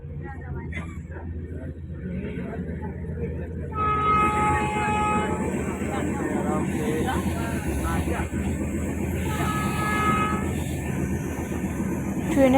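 A passenger train running on rails during a journey toward Prayagraj for the 2025 Kumbh Mela, its loud steady rumble and rattle of wagons continuous throughout, with a horn-like tonal sound joining partway and people talking under the noise.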